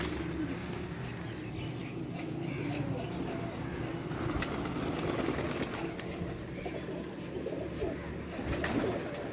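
Pigeons coo softly on a rooftop in Sialkot, a low continuous murmur of calls heard at moderate distance over outdoor background noise, with faint voices.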